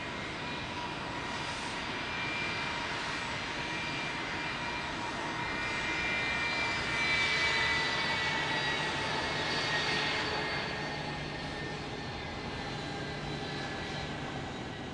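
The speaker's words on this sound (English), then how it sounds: "nice to hear the engines" Aircraft engines roar steadily at Tampa International Airport, a broad, continuous jet rumble that swells to a peak midway and then eases slightly, heard alone without talk.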